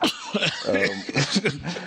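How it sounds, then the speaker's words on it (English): A person coughs and clears their throat several times in quick, rough bursts, close to the listener. "And now I'm coughing."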